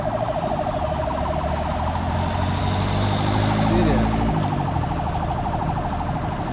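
Wailing ambulance siren on a busy Nairobi street, its pitch sweeping up and down repeatedly and growing louder as it nears, with traffic rumble beneath.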